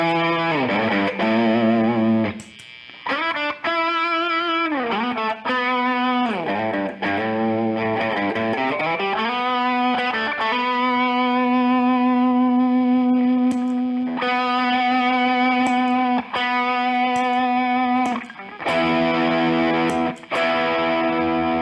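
An electric guitar runs through a T-Rex Vulture distortion pedal with no compressor, producing loud, fuzzy, saturated sustained notes and chords with gritty harmonics and a few brief gaps between phrases.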